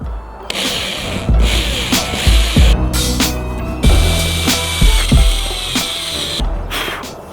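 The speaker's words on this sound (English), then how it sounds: "About to drill the first hole through the truck cap." Loud whirring power drill drilling through a thick truck cap roof, running in bursts with pitch changes as it bites, interrupted by short pauses and clunks, no talking.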